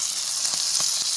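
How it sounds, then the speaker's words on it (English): Steak and bacon-wrapped asparagus cooking at an outdoor camp setup, giving a steady close sizzle with a few soft pops and fat spatters. "cooking steak, burning steak, and bacon wrapped asparagus"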